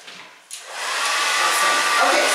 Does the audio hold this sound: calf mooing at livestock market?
no